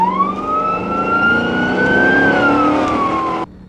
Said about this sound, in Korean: 수십 대의 차량이 한 곳을 향해 달려가고 있다.